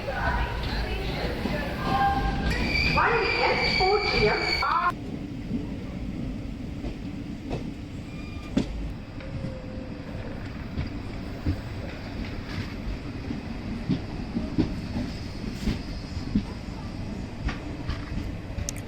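A Jan Shatabdi superfast Pongal special express, running between Tambaram and Trichy on old coaches, rumbles steadily from on board with faint rhythmic rail clatter; a brief burst of voices or noise sounds near the start.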